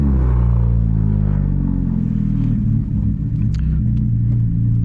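A 1999 Honda Civic with a straight-pipe exhaust revs hard on the way to a night car event, a loud, deep rumbling engine note rising and falling in pitch, heard up close from inside the car.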